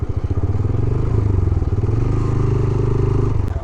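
A motorcycle engine idles and putters close by in a mountain valley parking spot, a steady low throbbing rumble with a slight rise in revs partway through, alone without talk.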